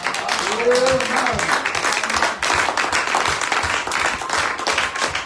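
A church congregation applauding Jesus Christ with steady, lively clapping throughout, a voice calling out briefly near the start and talk mixed in.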